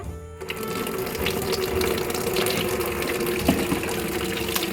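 Water gushes steadily into a container meant for holding fish, a continuous close rushing and splashing fill with faint occasional clinks.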